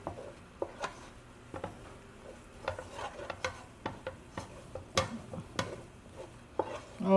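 Choux pastry dough being stirred in a pan, giving a series of soft, irregular scraping and slapping strokes close up, with faint clatter against the pan and no talk.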